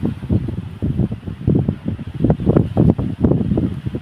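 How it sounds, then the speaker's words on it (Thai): Strong wind blows in gusts across a microphone outdoors near small banana plants, a loud continuous rumble that surges and fades irregularly, with no voices. "ลมแรงมาก"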